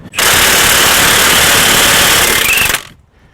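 A pneumatic impact wrench spins 21 mm nuts off long strut stud bolts on a GM J-body car such as a Chevrolet Cavalier, making one loud, close, rapid hammering burst of nearly three seconds before cutting off.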